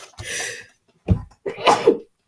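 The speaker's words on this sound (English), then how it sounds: "Oh, pardon me, I'm about to sneeze" A single sharp sneeze, preceded by a breathy inhale and followed by a brief throaty exhale, close and fairly loud.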